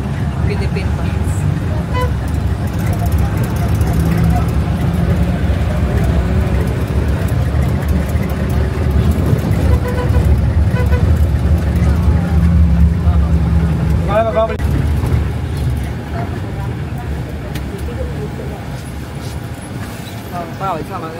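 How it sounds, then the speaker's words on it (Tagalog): A Philippine bus engine rumbles steadily with surrounding road traffic, loud and continuous, with brief horn toots and people talking over it before the noise eases toward the end. "Bus kami guys sa Nilo. Philippine bus."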